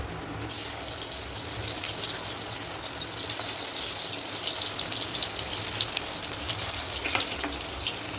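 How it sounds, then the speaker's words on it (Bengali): Stuffed soybean pitha fries in hot oil, a steady close sizzle and crackle with small pops, continuous throughout and without voices. "এবার আমি একটা একটা করে মিষ্টিগুলো ভেজে নেব।"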